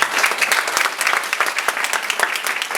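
A church congregation applauds and cheers loudly for God during a French-language sermon, a dense, continuous wash of clapping with scattered shouts lasting the whole stretch, no speech over it.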